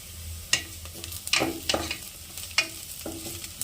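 A chicken curry masala with crushed kasuri methi is stirred as it fries in a pan, giving a close, low crackling sizzle broken by several sharp spoon scrapes and taps at uneven intervals, with no voices.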